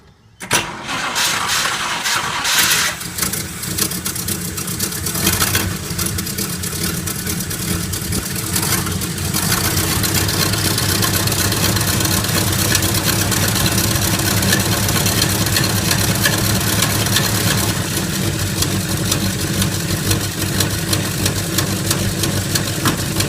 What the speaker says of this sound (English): This will be an absolutely cold engine start, and we'll give you some noise.